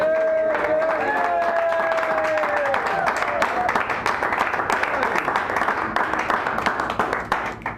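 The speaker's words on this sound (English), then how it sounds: "We're going to give her a nice rowdy round of applause." A rowdy round of audience applause at a poetry open mic in a San Francisco cafe, dense clapping mixed with whoops and cheers, a few tonal voices audible early before the clapping carries on alone.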